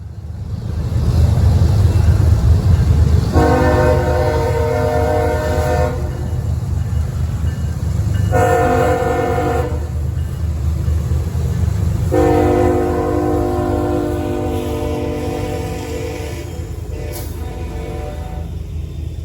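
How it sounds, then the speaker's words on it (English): Freight train M421 rumbles steadily nearby in Maryland while its horn blows three times, long chordal blasts separated by short gaps over the continuous rolling noise. "an unidentified train that I heard blowing its horn in the distance"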